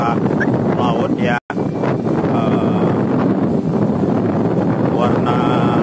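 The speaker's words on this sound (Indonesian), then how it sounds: "saat ini terjadi angin kencang dari arah laut ya." Strong wind blows in off the sea at a beach, roaring steadily and buffeting the microphone throughout with a brief dropout, while a voice talks over it.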